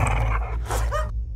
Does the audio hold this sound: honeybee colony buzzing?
no